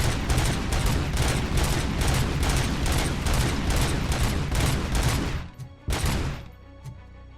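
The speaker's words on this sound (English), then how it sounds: "My burst fire of first infinite ammo shotgun with no reload" A burst-fire shotgun blasts in the video game Robocop: Rogue City, a loud, unbroken barrage of rapid booming shots for several seconds before it cuts off, then one more heavy blast with a short ringing tail.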